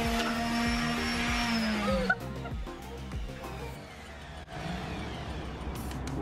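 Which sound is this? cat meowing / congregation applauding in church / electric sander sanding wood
electric sander sanding wood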